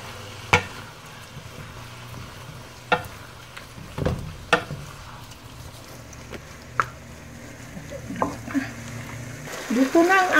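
Beef sizzles steadily in a pan over medium heat while a spoon stirs it, with sharp scraping clacks at intervals and a louder burst of frying near the end; no one speaks.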